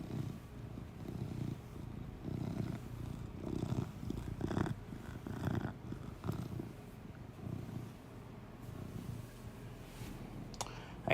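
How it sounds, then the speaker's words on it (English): A domestic cat purrs steadily and up close in a continuous low rumble, with a person occasionally talking nearby. "He's still purring, so that's a good thing."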